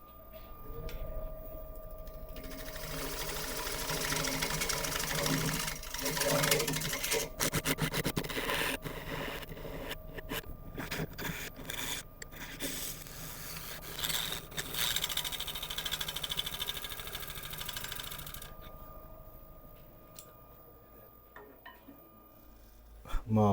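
Sandpaper rasps against a wood turning spinning on a running lathe, a fairly quiet, continuous scratchy friction with irregular scuffs that fades out near the end.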